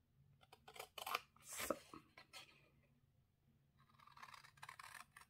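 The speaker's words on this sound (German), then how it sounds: "Ich mache es lieber mit der Schere." Scissors cut through paper packaging for a lemon-themed gift set, several crisp close snips and rustles in short bursts, with quieter paper handling between them.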